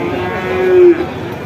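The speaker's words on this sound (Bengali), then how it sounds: "অনেক সুন্দর একটা সার বাছুর" A bull calf at a cattle market gives one clear, close moo of about half a second, rising out of steady crowd noise.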